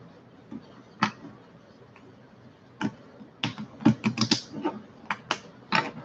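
Short bursts of crisp, rapid flutter and clicks, close by, several in quick succession with pauses between, as a small deck of oracle cards is riffle shuffled.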